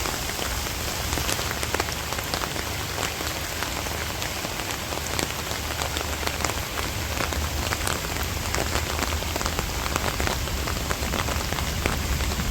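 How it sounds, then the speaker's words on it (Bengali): Heavy rain pours onto a village rooftop in a dense, even patter of drops that stays loud and unbroken from start to finish, with no voices. "বৃষ্টি অবশ্য কমে গেছে গা, ভালো বৃষ্টি হয়েছে।"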